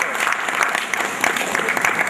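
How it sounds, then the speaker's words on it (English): An audience at a cybersecurity conference claps in a steady round of applause, a dense wash of hands with a few sharper claps standing out. "We appreciate another round of applause for her."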